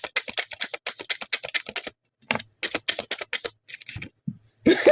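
Quick bursts of crisp flicking and riffling, like tarot cards being shuffled, close by in short runs with brief pauses and a few soft taps.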